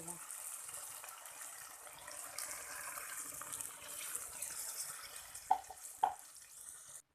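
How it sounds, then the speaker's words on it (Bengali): Water poured into a pot of soybean and potato curry on the stove: a steady, broad splashing hiss that runs the whole time, with two sharp clinks near the end. "জল দিয়ে দিয়েছি"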